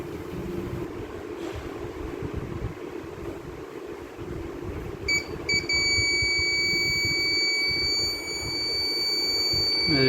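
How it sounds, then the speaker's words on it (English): Over a low background rumble, a high electronic water tank level alarm tone starts partway through and keeps sounding steadily and loudly until the end. "let's see if the alarm works or not"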